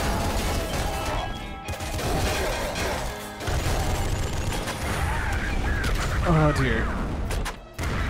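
Chaotic arcade gunfire and crashing impacts in the Nuclear Throne video game, dense and continuous over several seconds, with someone briefly speaking over the noise.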